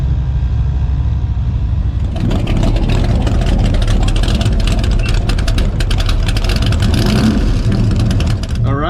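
White C3 Corvette with side pipes revving loudly and close, a rumbling engine note that swells and surges after a quieter idle, with people talking over it.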